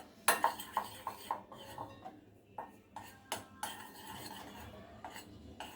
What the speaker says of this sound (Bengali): এবার আমরা এগুলো ভালো করে মিক্সড করে নিব।